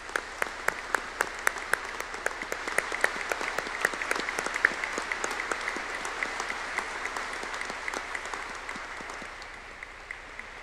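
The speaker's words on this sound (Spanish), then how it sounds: "Les pido un fuerte aplauso al Papa Francisco." A large congregation claps for Pope Francis during Mass for the Solemnity of Saints Peter and Paul, steady rhythmic clapping heard from a distance, evenly paced and unbroken throughout.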